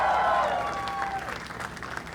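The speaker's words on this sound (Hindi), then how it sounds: "जोरदार तालियां" A comedy show audience clapping and cheering to welcome a guest, a burst of crowd applause that starts with a short whoop or whistle and then thins out.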